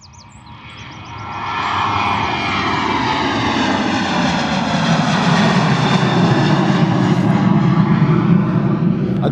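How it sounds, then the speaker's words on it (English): A Ryanair airliner departs Bristol Airport on a foggy day. A loud, swelling jet roar builds from a distant hum to a close, sustained rumble. "As our next departure flies towards us,"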